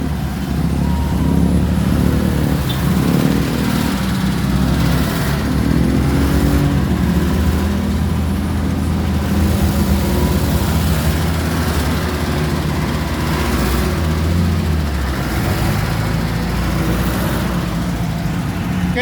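An old semi-stainless owner-type jeep's engine drones steadily while driving, a loud, continuous rumbling motor with road noise that lasts throughout, with no talking over it.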